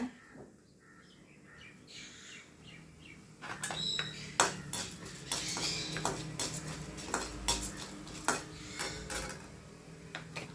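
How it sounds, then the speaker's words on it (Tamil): Mustard seeds, urad dal and chana dal temper in hot oil in a pan, giving scattered sharp pops and crackles that grow busier after a few seconds, with light clinks of a utensil against the pan. "இப்போ கடுகு போட்டுக்கலாங்க உளுந்து பருப்பு கடலைப்பருப்பு போட்டுக்கலாங்க"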